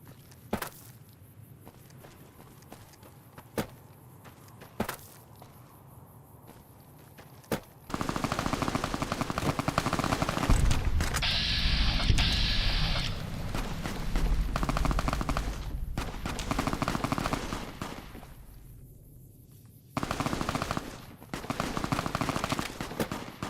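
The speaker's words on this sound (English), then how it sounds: "I heard them shooting, and now they're not." Sustained bursts of rapid automatic gunfire, loud and dense from about eight seconds on, preceded by scattered isolated shots at a distance, with a brief lull near the twenty-second mark.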